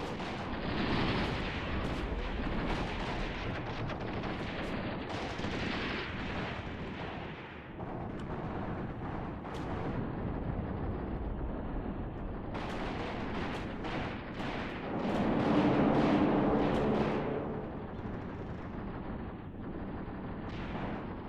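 Air support strikes in a war strategy game set during the Iran-Iraq War, heard as a long, loud wall of rolling explosions and artillery booms, with heavy blasts surging and swelling throughout and no talking.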